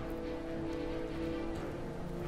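Steady rain in the Naruto Shippuden Ultimate Ninja Storm 4 video game, a continuous even hiss of falling water layered over sustained low background tones, with no talking.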